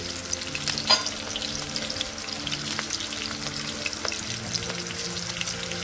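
Onion and green chilli pieces with cumin seeds sizzle in hot oil for a broad bean and tomato curry, a steady close crackle with occasional stirring scrapes and a sharper pop near the start.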